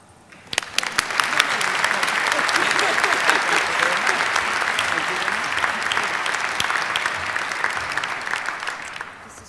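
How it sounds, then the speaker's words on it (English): An audience at a scientific meeting lecture applauds an award, clapping swelling quickly after a soft start into loud, dense applause that holds steady for most of the stretch before thinning slightly. "Please applaud."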